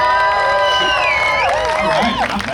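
A crowd at a New York State Police underwater recovery team demonstration cheers and whoops, many overlapping voices rising loud and close, then tapering off.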